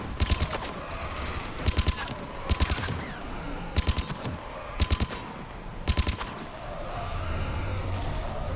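Heavy-recoil weapon fired in short, evenly spaced bursts of three or four sharp shots in Mass Effect 3, loud against a steady background din of battle.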